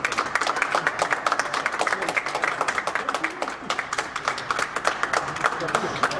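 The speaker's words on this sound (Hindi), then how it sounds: "हमारे हीरो मैं हीरो कावे भाई के लिए तालियां" An audience at a cricket awards ceremony applauds a winner, a dense patter of many hands clapping continuously with rapid crisp claps throughout, voices faintly under the noise.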